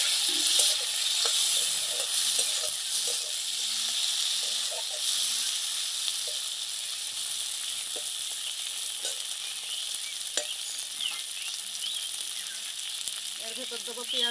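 Chopped tomatoes sizzle in a pan with soybean chunks and chicken scraps, a steady bright frying hiss with occasional stirring scrapes throughout.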